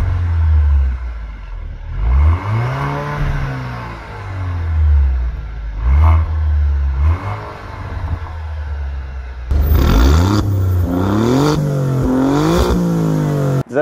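Alfa Romeo Giulia Veloce engine and exhaust revving in repeated rising and falling sweeps, a loud deep rumble that climbs and drops several times, with sharper, harder revs near the end.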